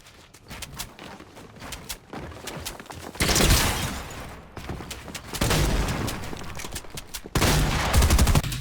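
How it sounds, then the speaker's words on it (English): Rapid heavy-gun fire in a competitive battle royale video game, dense bursts of loud shots in quick clusters with short lulls, no speech over it. "He started with an advantage by just shooting the guy with his heavy, and now he's trying to close out the fight as quick as possible."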